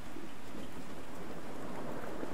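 Steady, dense rain with a low rumble of thunder underneath, a continuous storm ambience from an Unreal Engine 4 game scene, loud and even throughout with no voices.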